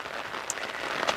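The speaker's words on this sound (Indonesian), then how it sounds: "Pada siang hari di guyur hujan ini" Steady rain pours down on an outdoor transmigration site where workers are building an earthen embankment, a soft continuous patter with a few brighter drops standing out.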